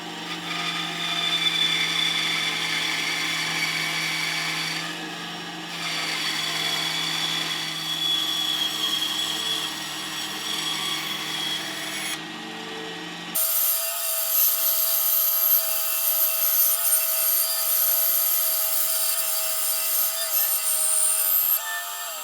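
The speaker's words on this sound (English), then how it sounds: "I'm going to get this on the bandsaw and square it off" A bandsaw squares off a blank of quarter-sawn wood for an acoustic guitar build, giving a steady whirring hum with the rougher rasp of cutting, then a brief pause before a higher-pitched, brighter whine takes over.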